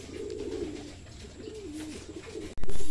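Racing pigeons cooing at a loft during a club training return, repeated soft low coos close by over ambient noise, ending in a sudden loud rush like wing flaps.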